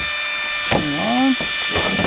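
A Magneto Speed Riflekühl barrel cooler runs in a rifle's chamber, pulling air through the barrel with a steady, even electric whine throughout, while someone briefly speaks over it.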